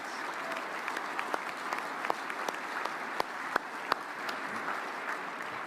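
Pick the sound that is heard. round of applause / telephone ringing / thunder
round of applause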